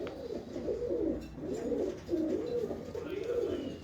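Pigeons coo in a continuous, rolling series of low throaty calls, fairly close and overlapping, with faint background noise beneath.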